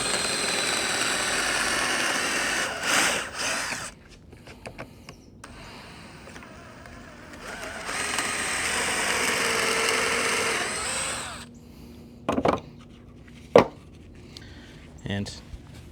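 A power drill bores pocket holes in a board held in a pocket hole jig, giving two long, high whirring runs with short pauses between them and a few sharp knocks and clatters near the end.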